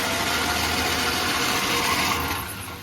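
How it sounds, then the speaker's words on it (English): The engine of a 1963 Austin-Healey Sprite that runs rough is cranked during a compression test, giving a loud, steady close churning drone that eases slightly at the end. "we're going to check compression here on number 1 cylinder"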